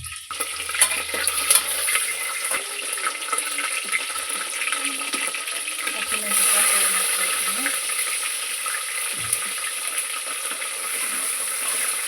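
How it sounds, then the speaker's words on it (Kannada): Whole spices hit hot oil and ghee in a pan while tomato bath is being made, giving a steady, close hiss with small crackling bursts throughout. No one speaks. "ಎಣ್ಣೆ ಬಿಸಿಯಾಗಿದೆ ಈಗ ಇದು ಮಸಾಲೆ ಐಟಮ್ ಎಲ್ಲ ಹಾಕ್ಕೊಳ್ತೀನಿ"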